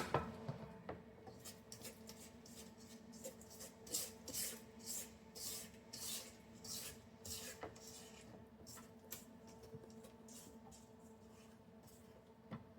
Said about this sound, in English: Let me scrape the sides.